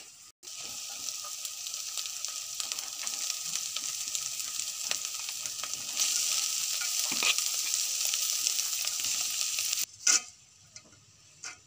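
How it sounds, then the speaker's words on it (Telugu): Boiled green gram fries in a spice tempering, giving a close, continuous sizzle under stirring that swells louder midway, then breaks off near the end into a few scrapes and clatters. "చూడండి, ఈ మిశ్రమాన్ని ఇలా మంచిగా కలుపుకోవాలి।"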